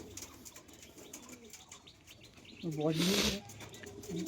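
Domestic pigeons of good quality, a male among them, cooing nearby in repeated throaty rolls, with one louder, fuller coo in the middle, over faint background noise and light chirps.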